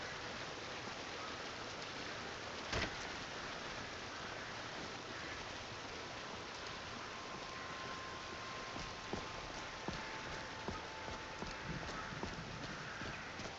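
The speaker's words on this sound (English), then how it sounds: "if this downpour goes on much longer, I'm gonna start growing moss." Steady downpour in the video game Skyrim: a constant dense hiss of heavy rain filling the scene, with a few faint clip-clops of hooves and soft tonal sounds drifting through.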